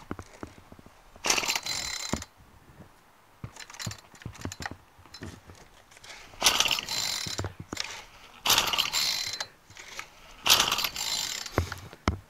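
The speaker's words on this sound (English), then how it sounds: "when you pull the cord, look, this thing pulls this and it closes the choke flap" Starter cord on a Craftsman 32cc auto-choke straight-shaft weed trimmer pulled repeatedly, several sharp ratcheting zips in bursts with quiet clicks and handling noise between them, close by and without talk.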